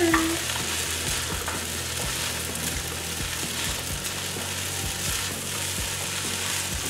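Green onion stir-frying in a pan with coconut sugar and curry, a steady sizzle with repeated scraping and stirring clatter throughout, no talk.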